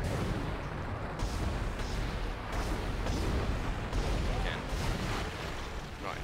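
Gunfire rakes an enemy in the sci-fi horror game Dead Space, a dense, continuous barrage of booming shots and impacts with a few sharper bursts, loud and close, over game ambience.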